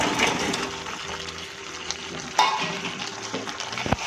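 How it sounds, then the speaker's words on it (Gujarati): Maggi noodle manchurian balls tossed into a pan and stirred over high flame, producing a moderate sizzle with scraping and stirring strokes and a couple of sharper clinks. "હવે આપણે જે મંચુરિયનના બોલ રેડી કર્યા છે એને આની અંદર એડ કરી દઈશું"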